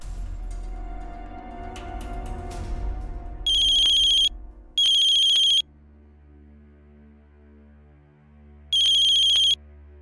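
A phone ringtone plays for an outgoing call: three loud bursts of a bright electronic tone about a second each, with low background hum and no talking.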